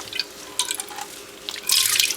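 Water trickles and drips from wet roving fiber hand-painted with food coloring as it is gently patted, soft intermittent splashes building to a louder, brighter gush near the end, close and with no voices.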